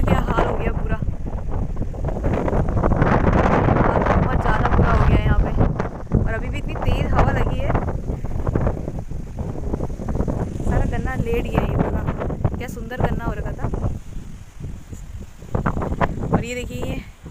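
Strong wind blows hard outdoors in a village, a loud, steady buffeting rush close on the microphone that keeps up throughout, with someone talking over it.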